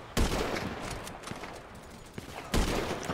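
Gunfire in the video game GTA 5 rings out, with two loud shots at the start and near the end and smaller shots and rumbling action in between.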